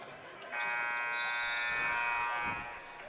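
A basketball arena buzzer ending the half in a junior varsity tournament game, one long loud electronic blare of about two seconds over faint gym noise, with a voice speaking softly beneath it.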